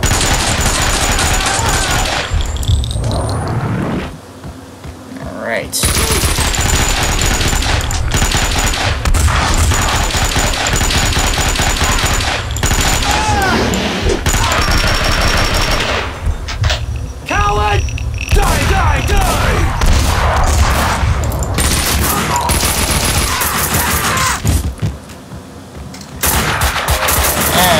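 Rapid gunfire from the Max Payne 2 video game, dense and loud bursts filling most of the stretch with only brief lulls, while a voice speaks over the shooting.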